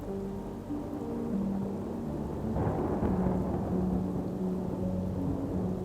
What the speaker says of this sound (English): the sky turned grey and a fierce storm rolled in